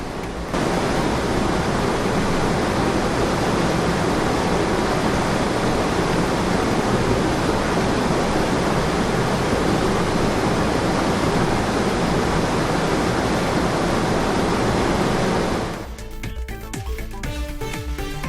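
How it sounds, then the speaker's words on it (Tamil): Siyar Baba waterfall in Reasi district, Jammu and Kashmir, in full spate after heavy rain, a loud, steady roar of crashing water that holds without break for about fifteen seconds before giving way to a different sound. "ஜம்மு காஷ்மீரின் ரியாசி மாவட்டத்தில் பெய்து வரும் கனமழையால் சியார் பாபா அருவி முழுமையாக நிரம்பி வழிகிறது"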